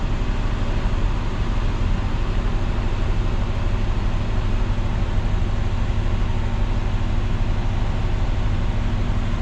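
A 1966 Ford Galaxie 500 engine idles while warming up with the parking brake set, giving a dense, steady, loud rumble that holds constant throughout with no talking.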